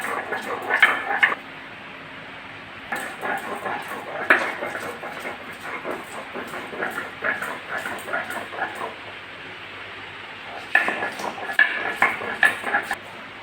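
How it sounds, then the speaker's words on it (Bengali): Ginger being ground into a paste by hand, with repeated scraping and clattering strokes in bursts, some loud and close, with pauses between them. "এরপরে আদা বাটা শুরু হয়েছে এটাকে ভালো করে পেস্ট করে নেবো"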